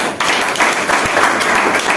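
Audience applause at a DXN company seminar, a brief burst of dense clapping from a crowded hall, loud and continuous for about two seconds.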